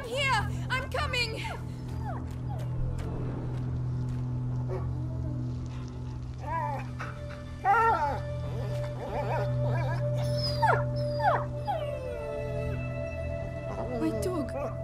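Dog whimpering, yipping and barking in A Plague Tale: Innocence, heard in short bursts over a steady game hum, mixed with people talking and a sustained musical tone.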